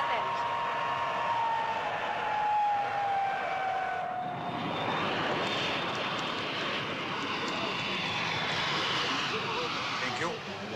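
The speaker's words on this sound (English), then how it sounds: "arrival of their Comet jet flight from Munich and Athens" A Comet jet airliner on its arrival flight from Munich and Athens roars loudly and steadily, a descending whine giving way to a broad sustained engine rush that fills the scene.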